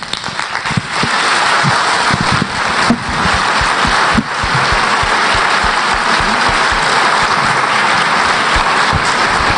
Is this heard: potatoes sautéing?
no